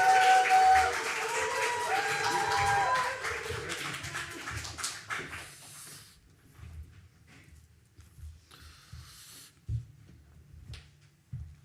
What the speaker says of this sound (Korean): 큰 박수로 수원하나교회 신상철 목사님 모시겠습니다